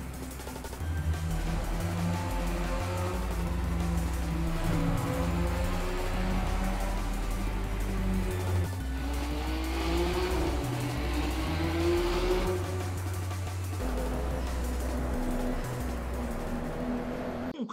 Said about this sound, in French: tous les sons des véhicules ont été refaits. Je vous fais écouter ça dès maintenant.